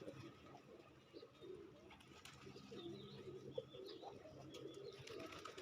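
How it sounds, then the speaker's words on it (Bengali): Feral pigeons coo in soft, low, repeated calls, fairly distant and faint against light outdoor ambience, with a few chirps and a brief flutter of wings. "ওই যে ওই একটা কবুতর, ওটা হচ্ছে বোনালো কবুতর"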